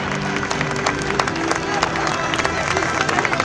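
A church congregation applauds during a baptism service: many hands clap in a loud, busy patter, mixed with crowd voices and babble throughout.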